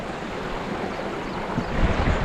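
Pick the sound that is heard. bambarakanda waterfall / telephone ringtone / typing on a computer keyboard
bambarakanda waterfall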